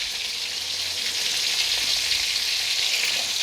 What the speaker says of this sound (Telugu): ఇవన్నీ మనం దోరగా వేయించుకోవాలి